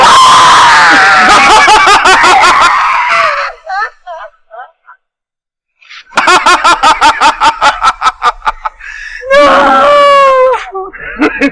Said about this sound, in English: You are still screaming.